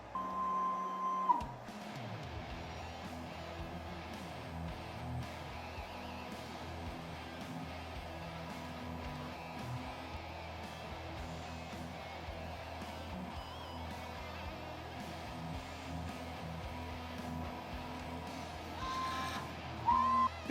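A CNC machine converted into a 3D plotter works over raw, sanded wood, giving a steady, continuous mechanical whir and hum with faint stepping tones, a short high beep at the start and end.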